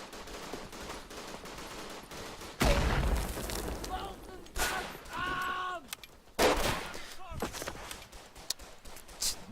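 Semi-automatic rifle fire in the World War I shooter game Verdun, several sharp loud shots in separate bursts with echoing tails, amid other battlefield sounds.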